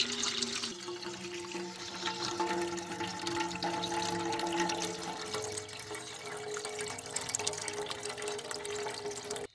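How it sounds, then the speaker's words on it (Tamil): Spiced ground water for pani puri being strained, a steady continuous pouring and trickling of liquid with splashy texture, fairly close and even throughout, with no talking. "அதை நம்ம வடிகட்டி இப்போ தண்ணி மட்டும் எடுத்துக்கிறோம்"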